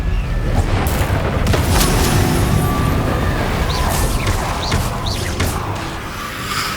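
Confringo spell explosion in the game Hogwarts Legacy: a loud, continuous rumbling boom that lasts several seconds, with crackling bursts and whooshing sweeps layered over it and a slow fade at the end.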